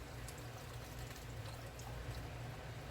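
Strawberry juice pours steadily into a container of lemonade nearby, a soft continuous splashing gurgle without any speech.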